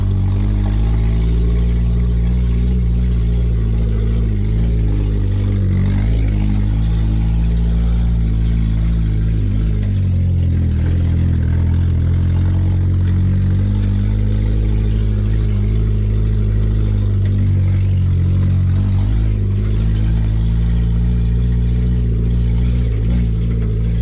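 An old Suzuki in four-high four-wheel drive, its mid-pitched engine droning steadily with repeated revs rising and falling throughout, loud and close with no talking.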